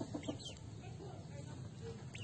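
Chickens cluck softly in a steady background murmur of farmyard noise, a few short clucks standing out near the start; one chicken has an infected foot.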